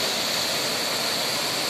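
A mountain river in the Himalayan foothills rushes steadily, a loud, even broadband roar of water with no breaks, close by and with no talk over it.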